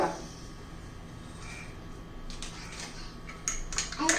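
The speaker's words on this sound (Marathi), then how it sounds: "हे मस्त व्यवस्थित मिक्स करून घ्यायचे" Watermelon juice seasoned with chaat masala being stirred, a spoon clinking lightly against the glass in a few quiet taps that grow slightly louder toward the end, over faint background hiss.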